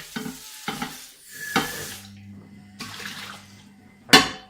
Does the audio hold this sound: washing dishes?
yes